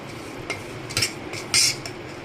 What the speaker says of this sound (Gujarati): હવે આપણે એમાં ગોળ એડ કરી દઈશું સરસ ભેળવી લઈશું